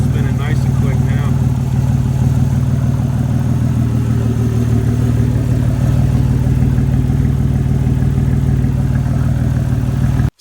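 A Camaro twin-turbo engine runs warm at idle with both turbos spinning, a loud steady low drone and clatter heard close up throughout.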